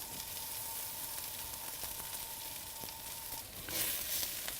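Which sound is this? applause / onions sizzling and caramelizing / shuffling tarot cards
onions sizzling and caramelizing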